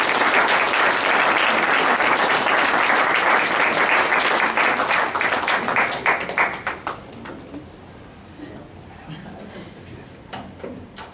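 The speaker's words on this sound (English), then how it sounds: "Let's have another round of applause for Isaac Tim, Chad Van Zandt, Tim Tarbett," Audience applause at a Utah writers' league reading night, a dense sustained clapping from a room of people that swells loud, then thins into scattered claps and fades out after about six seconds.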